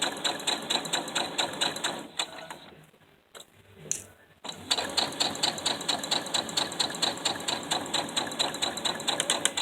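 Sewing machine stitching fabric for a children's book: a steady, rapid mechanical chatter of needle strokes, close and loud, with a brief pause near the middle before the stitching resumes.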